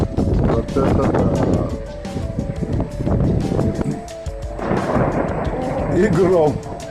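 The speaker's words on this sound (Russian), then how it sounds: "Идет снег. И гром гремит." Thunder rumbling during an April snowstorm in Russia, a continuous low roll with crackling bursts and wind buffeting the microphone, while someone talks excitedly over it throughout.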